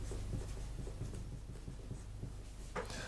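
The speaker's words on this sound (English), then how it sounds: "I'm going to have to write the whole thing again." A pen scratches out maths working by hand on paper in short, rhythmic strokes, close and steady throughout, with no talking.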